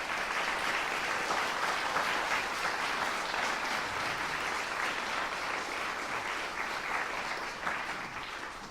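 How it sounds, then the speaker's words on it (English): Sustained applause from a sizable audience after a string quartet's performance at a chamber music competition, a dense steady wash of clapping that carries on evenly and tapers slightly near the end. "one more round of applause"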